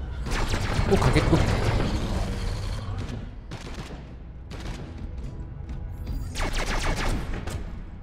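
Heavy automatic gunfire in Space Hulk Deathwing, a loud sustained barrage that thins into scattered bursts and flares up again near the end, with someone talking over it.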